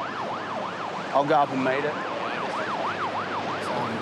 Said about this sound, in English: the ambulance has just arrived now